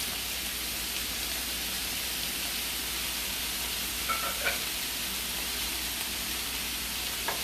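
Boiled, minced saltfish stirred into vegetables frying in a pan for Jamaican ackee and saltfish, a steady soft sizzle with a few light clinks of a utensil, no talking.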